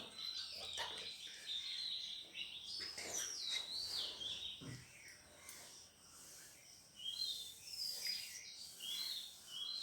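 Early-morning birds chirp and call from varying distances, some near and bright, others faint and far off around a pond, palm trees and woodland, with a quiet background and no speech.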